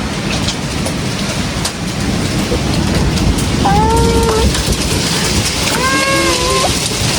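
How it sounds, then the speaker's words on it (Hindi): Strong windstorm with heavy rain, a loud constant roar of wind and downpour close by, with short whistling or birdlike tonal calls rising over the din twice near the end. "ये देखो कितनी जोर की आंधी आ रही है"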